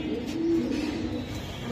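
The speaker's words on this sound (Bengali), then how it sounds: "এটা কি কবুতরটা? বাঘা সুইটাল কবুতর।" A Bagha Suital pigeon coos nearby, a low, soft, throaty call that rolls on without a break under a faint background hum.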